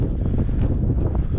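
Strong wind buffets the microphone in a steady, low roar with gusty rumbling, loud and close, with no voices.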